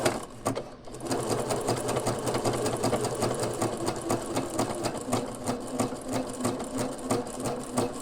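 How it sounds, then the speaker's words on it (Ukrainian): A household sewing machine stitches a flower decoration with a rapid, steady mechanical whir and rhythmic needle clatter, close and continuous after a brief start, with no talking. "І починаємо шити."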